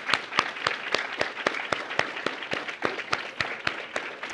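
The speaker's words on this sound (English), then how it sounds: "Another round of applause for Tyler" A small group applauds at a CTE signing day ceremony, thin and fairly quiet, with distinct individual claps in a loose, uneven rhythm throughout.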